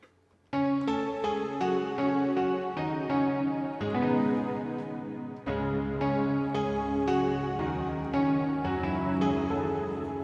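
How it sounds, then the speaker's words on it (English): A bright synthesized piano from the Nexus plugin plays a flowing melody of chords and single notes in a trap beat style, with a brief pause before the phrase starts again. "This is where the Nexus piano come in."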